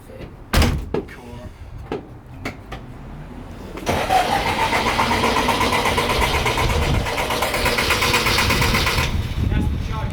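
Door thumps and clunks come first, then a classic car engine starts and settles into a loud, steady idle that runs close by to the end, with voices heard over the opening moments.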